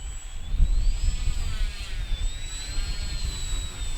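A Dancing Wings Stick radio-controlled airplane, an all-terrain model on big tires, runs its electric motor with a steady high whine that rises and falls as it passes, loud and continuous throughout with no talk.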